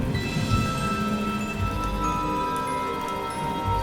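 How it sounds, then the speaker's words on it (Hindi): Steady rain falls with a low rumble of thunder rolling underneath, a continuous wash of drops at moderate level with the deep growl swelling and fading near the start. "बादलों की गरज लगातार बढ़ती जा रही थी। हल्की हल्की बारिश भी शुरू हो गई थी।"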